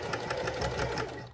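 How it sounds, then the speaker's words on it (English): Domestic sewing machine stitching fabric with the needle running at a steady fast pulse, a rhythmic mechanical whir and clatter heard close and alone. "I'm gonna continue watching my road and sewing."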